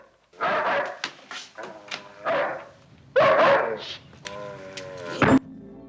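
A dog barks several times in a 1963 Twilight Zone episode, loud and close, with short yips and a whimpering whine between the barks.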